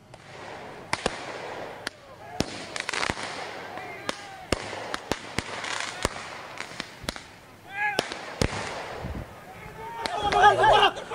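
Fireworks and firecrackers pop and crack repeatedly during a street clash between two crowds throwing stones, sharp bangs scattered irregularly over a rumbling crowd and shouting.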